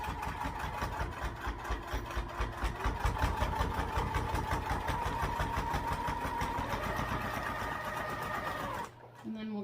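A sewing machine stitching a wallet runs close by in a fast, even rhythmic chatter of needle strokes for about nine seconds, then stops, with a voice talking beneath.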